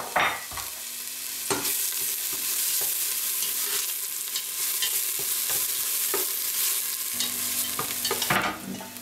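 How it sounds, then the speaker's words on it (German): Onions and garlic sweating in olive oil in a pot, a steady soft sizzle running throughout with stirring scrapes and a few louder clatters of a spoon against the pot, close and without any talk. "Und jetzt schwitzen wir die Zwiebeln und den Knoblauch glasig an."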